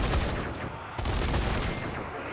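Turret burst fire in a zombie video game, dense rapid gunshots crackling loudly and continuously with a brief gap midway.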